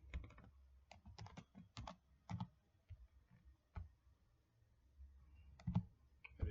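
Password being typed on a computer keyboard during a Windows Server 2019 setup in VirtualBox: irregular bursts of close, crisp key clicks with brief pauses between runs, no talking.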